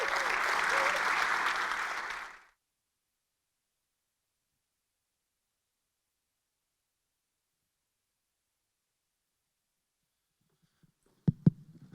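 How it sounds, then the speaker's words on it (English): An audience at a technology summit applauds presenters in a short burst of clapping that ends abruptly, followed by long silence and a few faint knocks. "A round of applause again for all the presenters"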